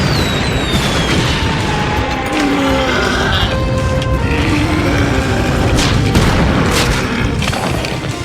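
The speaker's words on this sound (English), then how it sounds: "Few fireworks." Fireworks exploding in a cartoon scene, dense rumbling booms and crackles overlapping continuously, loud and busy with faint tonal sweeps mixed in.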